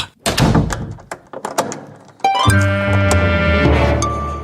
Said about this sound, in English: Okay, Rob, close the door. Lock it.